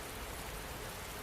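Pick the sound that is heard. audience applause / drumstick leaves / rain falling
rain falling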